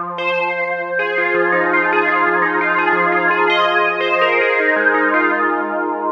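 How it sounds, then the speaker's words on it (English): Roland Juno factory preset Pluck Sweep playing a short run of bright, bell-like synth notes over a held low tone, loud and clear with no voices. "Let's bring in from the Juno Factory Sound Bank. It's called the Pluck Sweep sound."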